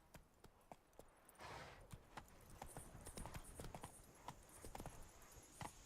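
Roach's hooves in Witcher 3 pound in a quick galloping rhythm, sharp and fairly close, over a soft wash of wind and game ambience.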